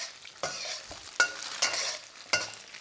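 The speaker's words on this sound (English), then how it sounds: "It's always good when you're frying something like this" Tofu sizzles and spits in hot oil, with sharp bursts of crackling as pieces are stirred, close by and without talk.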